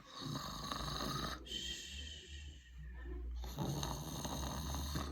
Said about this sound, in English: He began to snore very gently.